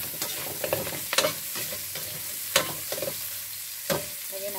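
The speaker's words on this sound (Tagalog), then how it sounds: "lalagay na natin ang ating sibuyas at bawang" Onion and garlic sizzle and crackle as they are stir-fried in a pan, with steady frying hiss broken by repeated sharp scraping stirs, close and fairly loud.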